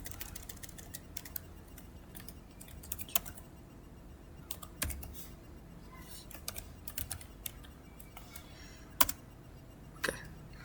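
A computer keyboard being typed on while a command is entered for an operating systems project: quiet, irregular key clicks in short clusters with a few louder taps, over a soft background.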